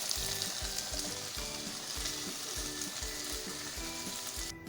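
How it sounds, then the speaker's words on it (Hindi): Okra (bhindi) fries in hot oil with a dense, continuous sizzle, loud and close, over a rhythmic low clatter that could be a pan or stirring. "तो यहाँ पे देखिए भिंडी अच्छे से फ्राई हो गई है।"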